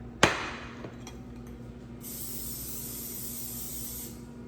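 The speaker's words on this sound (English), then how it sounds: "So I'm going to spray it over my sink here, just so I won't get spray everywhere." Cooking spray misted onto a baking dish over a sink, opening with a sharp clink, then a long close hissing spray burst that continues steadily to the end, with no talk.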